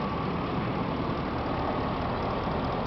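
A 2004 Chevy Suburban engine runs steadily at around 2,000 RPM, a continuous, even, droning hum heard close up with no break or change in pitch and no talking.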